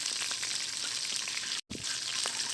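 Food sizzles steadily in hot oil in a home kitchen pan, a continuous dense frying hiss with faint crackles and one very brief break in the sound.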